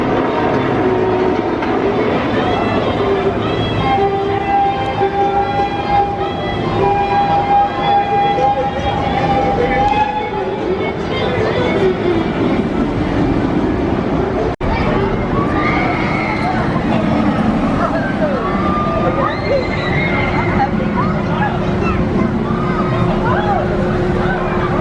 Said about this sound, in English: We are about to ride Silver Bullet, which is the park's inverted coaster.